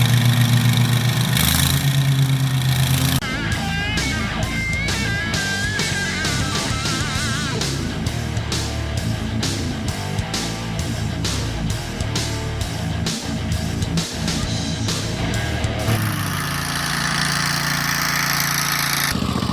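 A Bad Boy riding lawn mower runs with its blades engaged, a loud, close, steady engine drone layered with a busy, rhythmic clattering through most of the clip, easing to a smoother hum near the end, with no talking.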